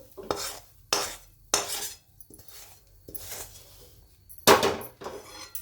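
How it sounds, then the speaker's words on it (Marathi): Hot semolina barfi mixture is poured into a ghee-greased plate and spread, heard as a few separate scraping and clinking strokes of a utensil against metal with quiet gaps between them, close and moderately soft, with no voices. "आता आपण तूप लावलेल्या ताटात टाकू"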